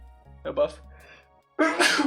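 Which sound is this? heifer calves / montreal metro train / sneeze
sneeze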